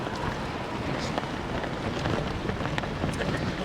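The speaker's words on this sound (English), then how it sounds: "that's a hell of a wind" Strong headwind on a bridge buffeting a cyclist's microphone, a loud continuous roaring rumble with gusty surges and no speech.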